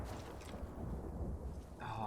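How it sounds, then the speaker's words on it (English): In the video game Death Stranding, a low rumble of thunder rolls under steady rain, with a voice talking over it. "Oh, that thunder noise."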